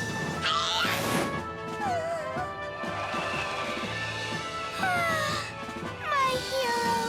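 Gladys the cat meows loudly and repeatedly in a cartoon yard after jumping a fence, long rising and falling yowls mixed with crashes and clatter, close and insistent throughout.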